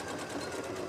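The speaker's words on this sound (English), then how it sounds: "just finish sewing that on the top" Sewing machine stitching the top of a boxed pencil case with a zip, a fast, even mechanical whir running steadily and up close.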